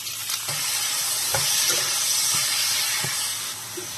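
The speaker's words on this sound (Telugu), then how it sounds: "వెల్లుల్లి వేసుకుందామండి. టమాటా వేసుకుందామండి." Garlic and tomato sizzle steadily in a hot pan, with a constant frying hiss and a few soft stirring knocks scattered through the clip; no one speaks.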